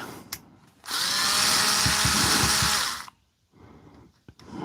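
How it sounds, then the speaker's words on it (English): A small power tool runs in one continuous whirring burst of about two seconds while removing the small screws from a Milwaukee M18 battery pack, loud and close, with quiet handling clicks before and after. "So we're going to have to get these 4 screws out to get the thing out of the pack."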